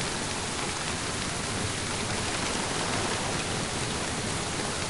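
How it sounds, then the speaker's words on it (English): Steady rain in the Splinter Cell: Chaos Theory multiplayer game, a dense, even hiss of falling drops that holds constant throughout with no voices over it. "I'm out in the rain."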